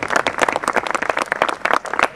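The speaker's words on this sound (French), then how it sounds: "que vous pouvez applaudir, comme Françoise" An audience at an outdoor centrist political picnic in a park claps in warm, steady applause, a dense close patter of many hands throughout.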